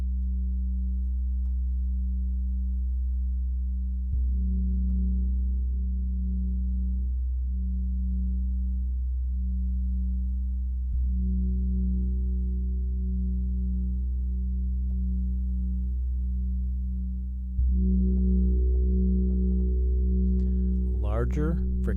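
A large gong rubbed with a friction mallet gives a steady, humming low drone that thickens in stages into a louder roar, with a brief rising squeal of the mallet near the end.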